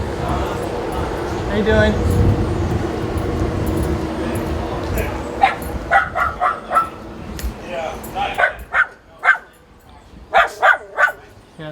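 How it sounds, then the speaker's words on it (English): A small toy dog barks angrily in sharp, rapid yips, with a burst in the middle and a cluster of loud barks toward the end, close by on a street after a truck rollover accident, while a person speaks briefly. "somebody's toy dog that's irate about my existence"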